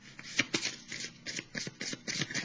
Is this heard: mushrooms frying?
no